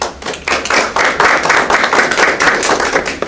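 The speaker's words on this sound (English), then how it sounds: "please put your hands together and give a warm round of applause for Keith Best" Audience applause greets Keith Best, a former Conservative MP, as he is introduced at a reception honouring Jaswant Singh; dense, steady clapping from a room full of people continues loudly throughout, with no talk.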